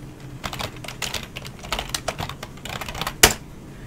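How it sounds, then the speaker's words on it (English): Fingers type on a computer keyboard, close and clear, in a quick uneven run of key clicks that ends in one sharper, louder keystroke. "So you type in what you want."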